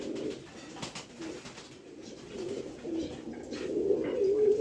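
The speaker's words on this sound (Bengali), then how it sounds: "কবুতরটা মাদি কবুতর" A female adult pigeon coos nearby, several low throaty coos repeating at irregular intervals, growing fuller toward the end, with faint ambient sounds around it.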